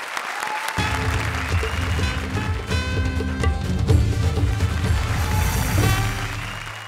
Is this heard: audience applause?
yes